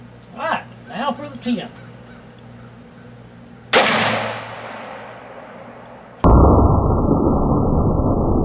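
Hard cast 10mm pistol round fired outdoors, a single sharp loud report with a decaying tail, preceded by honking goose-like calls and followed by an abrupt, steady filtered noise.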